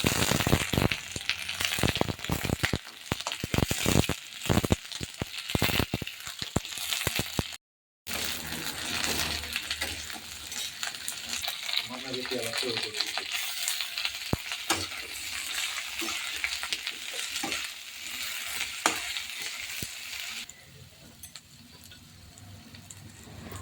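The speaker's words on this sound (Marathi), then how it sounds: "वांगी त्याच्यामध्ये टाकले ते पण चांगले तेलामध्ये तळून घेतले" Eggplant fries in hot oil in a pan with onion, curry leaves and coriander. A busy sizzle runs under sharp scraping and stirring clicks, briefly cuts out, then carries on as a softer, steady frying hiss.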